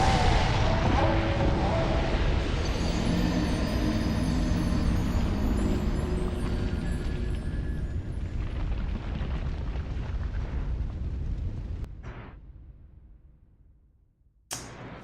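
A big fire nova spell explodes in Dark Souls II, a loud sustained roaring blast that rumbles for many seconds and then fades away, with a sharp brief crack near the end and no speech.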